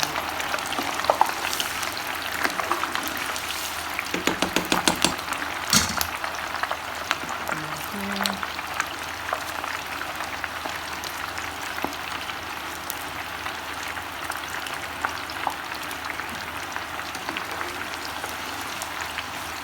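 Meatballs frying in a pan give a steady, close crackling sizzle all the way through, with a few brief clinks and stirring knocks early on.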